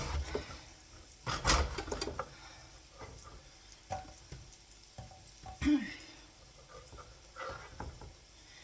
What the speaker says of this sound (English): this fry pan is really good and it's quite hot. So I like to cook the onions a little bit.